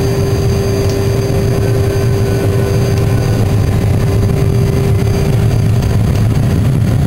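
A makeshift forced-induction furnace burning garden waste roars with a steady, loud, continuous rush and a low rumbling drone, holding constant throughout like a jet engine.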